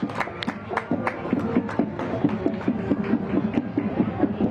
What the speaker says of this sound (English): Let's give these hard-working students a big round of applause.